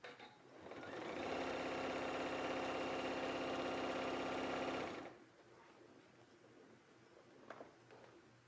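A sewing machine with a walking foot stitches a chenille quilt at short stitch length, running as a rapid, even mechanical whir for about four seconds, then stopping, with faint handling noises after.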